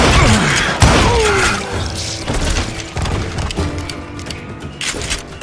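Gunfire in the Western shooter Call of Juarez: Gunslinger: several loud, sharp shots with crashing impacts, heaviest near the start, then further scattered shots over a busy, constant game soundscape.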